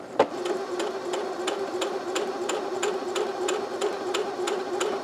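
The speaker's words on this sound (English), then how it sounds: "we'll sew again using the foot pedal" Singer Heavy Duty 6800C sewing machine run with the foot pedal, stitching at a steady even rhythm of quick mechanical ticks over a motor hum, close and moderately loud.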